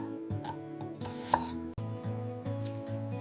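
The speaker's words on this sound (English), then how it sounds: "Slicing them into thin, elegant rounds." A knife slices carrots into thin rounds on a cutting board, a run of crisp, fairly even chops sounding close over steady background music.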